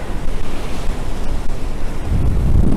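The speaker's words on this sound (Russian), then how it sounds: "Очень сильный ветер, большие волны, мокрые ноги." Storm waves crash on the Crimean seashore as strong wind buffets the microphone, making a loud, continuous roar of surf that swells again near the end, with no voices.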